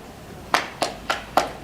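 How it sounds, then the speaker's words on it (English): Audience applause for editorial board members at a technology and innovation conference, four separate sharp clap bursts at a steady rhythm, fairly near and moderately loud. "You can clap for them."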